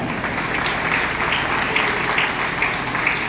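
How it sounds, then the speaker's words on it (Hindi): Audience applause at an Indian honoring ceremony where a guest is draped with a scarf, steady dense clapping filling the whole moment at moderate loudness with no talk over it. "तालियां।"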